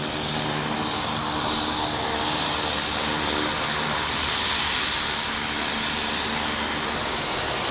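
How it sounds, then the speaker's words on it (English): A seaplane's propeller engine drones loudly and continuously over Alaska's Cook Inlet, a steady, close roar that fills the whole stretch with no voices. "An Alaskan fishing excursion may begin not by boat, but instead by seaplane."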